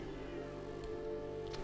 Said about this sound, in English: I have a pink cat near me that's being very upset.